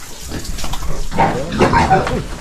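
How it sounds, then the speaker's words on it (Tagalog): Pigs on a farm grunt and snort nearby, a rough, busy cluster of animal calls rising in the second half, with some splashing or background noise underneath. "pasilip ko na sa inyo yung mga alaga nating mamoy, mga baboy mga ka-prankster."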